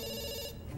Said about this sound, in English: we pick up the phone because it's ringing